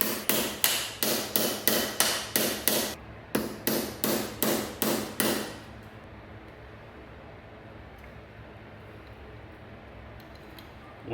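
Metal hammer strikes on a bent case bolt of a BMW S1000RR motorcycle, a quick run of about eight sharp blows, a short pause, then six more, all loud and close, followed by quiet room tone.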